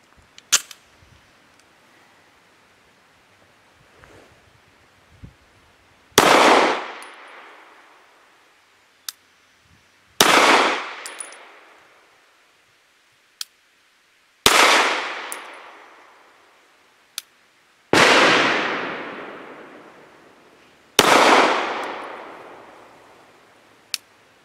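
Five loud, sharp gunshots from a Zastava CZ 999 pistol at an outdoor shooting range, spaced a few seconds apart, each with a long echoing tail, plus fainter clicks and metallic clinks between shots.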